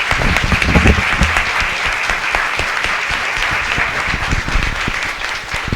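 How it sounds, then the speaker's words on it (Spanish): The audience at an academic panel on aesthetics of the female body applauds the event assistants with loud, dense, sustained clapping from many hands that fills the room for several seconds. "yo les pido un aplauso sumamente grande y sentido para estas"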